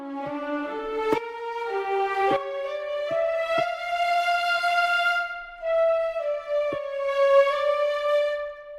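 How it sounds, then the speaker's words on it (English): Clarinet plays sustained, clearly pitched melodic notes that sit prominently loud in a music mix, with a few sharp percussive clicks between phrases. "It's the sound of the clarinet is way too loud."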